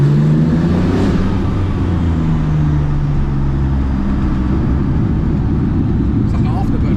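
A Porsche 993 GT2 Evo's engine roars loudly and steadily, a deep sustained growl held throughout with a few voices talking over it.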